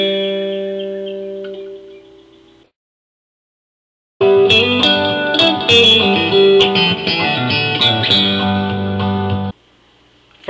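An electric guitar plays the verse part of a song, starting with a sustained chord that fades and goes silent, then a longer run of bright notes with slides and strums ringing over effects, played alone.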